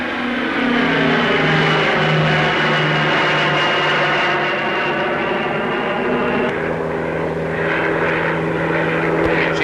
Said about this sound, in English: Still more turboprops. This time in Handley Page Marathon 2,